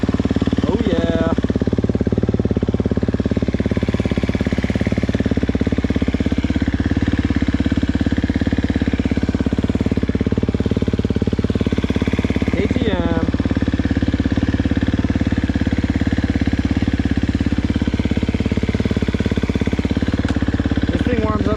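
A KTM 250SX-F dirt bike idles steadily on C12 race gas, a loud continuous engine drone that holds even throughout without revving, close to the microphone and with no speech.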